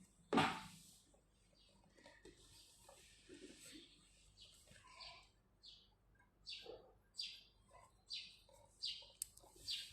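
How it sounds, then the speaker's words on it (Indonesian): Faint chirps and tweets from wild birds come in scattered short bursts, with some distant background murmur. "itu bukan burungku, itu burung liar"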